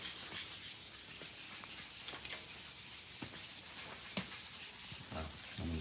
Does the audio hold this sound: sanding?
yes